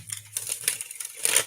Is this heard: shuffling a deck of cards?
yes